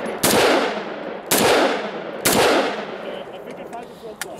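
A full-auto French FAMAS bullpup rifle fires three loud, sharp bursts outdoors, each with a long ringing decay, then the shooting stops and only faint background sound remains.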